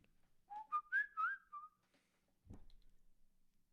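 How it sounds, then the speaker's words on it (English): One person whistles a short rising and falling melody close to a microphone, a few clear notes over about a second, then a brief low thump follows in a quiet room. "Can I whistle into this?"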